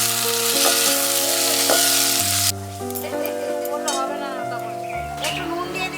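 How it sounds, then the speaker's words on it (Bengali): Carrot, green chili and tomato sauce fry in hot oil in a pan, a loud, continuous sizzle heard close up under steady tonal background music. "এবার একটু ভেজে দিচ্ছি।"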